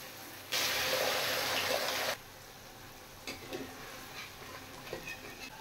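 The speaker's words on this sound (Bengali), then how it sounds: "এবার আমি দিয়ে দেব জল" Water is poured from a tap-like stream into a pan of cooked-down curry masala with tomato, a steady broadband rush lasting under two seconds, followed by faint stirring and gentle bubbling.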